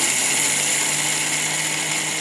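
An electric mixer grinder whirs steadily as it pulverises roasted bhajani, a multigrain flour mix, into fine powder for chakli: a loud, continuous high-pitched motor drone and grinding rush with no breaks.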